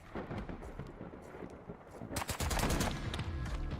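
Video game gunfire rattles in dense, rapid bursts with a heavy rumbling tail, growing louder and more continuous in the second half.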